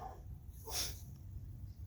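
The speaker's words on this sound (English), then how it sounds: "Maybe hearing one now, that's my other puppy dog" A dog gives one short, breathy snort or sneeze close by, a brief burst of air against quiet background hum.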